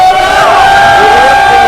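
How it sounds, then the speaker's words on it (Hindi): A loud crowd cheers and whoops at the inauguration of a children's play arena, a dense roar of shouting voices with rising and falling yells that stays strong for under two seconds. No clear clapping stands out. "जोरदार तालियां और हल्ला एकदम।"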